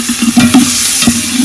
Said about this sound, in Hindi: तड़का लग रहा है जी।